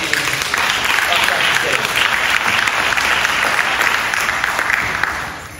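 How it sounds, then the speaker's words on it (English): A large audience at a school fine arts signing day claps loudly and steadily for several seconds, the applause tapering slightly at the end. "Let's give her one more round of applause as she walks"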